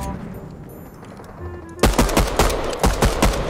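Automatic gunfire from a machine gun in Fortnite, starting after a quieter stretch of game ambience and then rattling in rapid loud bursts of shots.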